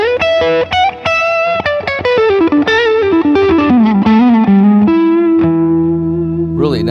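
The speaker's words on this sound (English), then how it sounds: "Great on distortion too." A distorted Taylor T5 electric guitar plays a fast descending run of notes, then settles into a sustained, heavily driven note that rings out.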